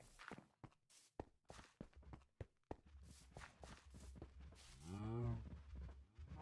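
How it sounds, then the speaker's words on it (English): Cows in a video game barn low several times, with a loud, drawn-out moo near the end, mixed with footsteps and thumps. "We have a bunch of cows here"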